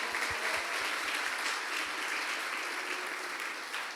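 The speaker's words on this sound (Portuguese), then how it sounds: "Dê uma salva de palmas para ela." A church congregation at a worship service breaks into sustained applause, a broad even roar of clapping from many people, with a few distinct low thumps early on.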